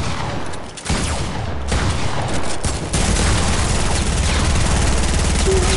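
Sustained automatic gunfire in a shooting video game, a dense, loud rattle of rapid shots with booms running almost without pause throughout.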